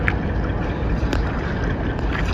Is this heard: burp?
no